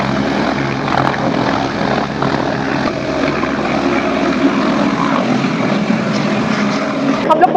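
Helicopter flight to Kedarnath heard from inside the cabin: a loud, steady rotor and engine drone holding constant throughout, with no clear talk over it.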